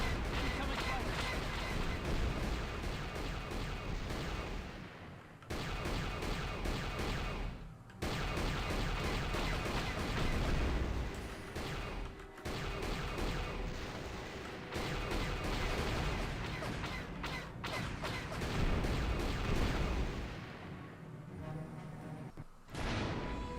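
Turret gunfire in Knights of the Old Republic, dense rapid bursts of blasts and booms in long stretches separated by brief pauses, loud and continuous.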